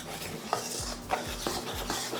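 Flour, baking powder, sugar and salt are stirred together in a bowl for a biscuit dough, giving a quick run of rhythmic scraping strokes about twice a second, close and fairly soft.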